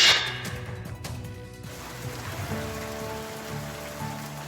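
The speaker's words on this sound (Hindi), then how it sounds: "सीकर में दोपहर के वक्त अचानक मौसम का मिजाज बदला और झमाझम बारिश शुरू हो गई" Heavy monsoon rain pours down in Sikar in the afternoon, a steady dense hiss of drops pattering on surfaces, with a few sharp splashes and knocks early on and no voices.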